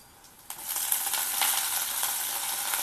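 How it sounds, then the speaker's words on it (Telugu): Washed bean pieces go into a pan with lightly browned onions and fry with a steady bright sizzle, starting with a soft clatter, then a loud, continuous crackle with occasional stirring scrapes. "ఇప్పుడు ఈ వాష్ చేసి ఉంచుకున్న బీన్స్ ముక్కలు కూడా వేసేస్తాను."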